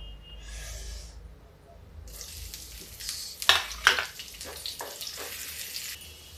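Chopped onion dropped into a hot pan bursts into a bright, close sizzle that keeps crackling steadily, with a few louder pops and stirring scrapes.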